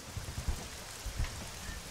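Steady rain falls at night near a fire in the video game Arma 3, a dense even patter with a few soft low thumps and no voices.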